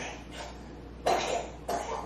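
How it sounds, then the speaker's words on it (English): Two short coughs from a child, close by, spaced about half a second apart over quiet room noise. "my kid is coughing"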